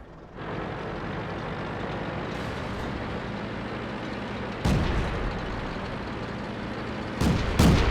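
Heavy tank cannon blasts from a T-50 light tank in World of Tanks, a loud boom near the middle and another near the end over a steady engine rumble and battle ambience.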